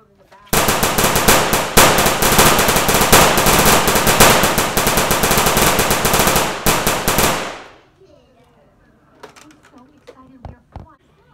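Sustained, loud automatic gunfire from the zombie shooter game Left 4 Dead, a dense burst lasting about seven seconds before cutting off, followed by a few scattered fainter shots and quiet movement sounds.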